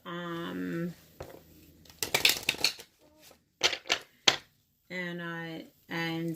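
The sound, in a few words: shuffling tarot cards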